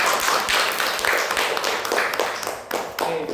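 Classroom applause for a student group after their presentation in a university biotechnology lecture, a dense, steady patter of many hands clapping together for a few seconds, fairly loud and continuous with slight swells.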